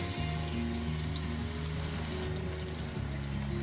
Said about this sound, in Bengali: আমার তেলটা গরম হয়ে এসেছে, এবার আমি 2 কাপ পেঁয়াজ কুচি দিয়ে দিলাম।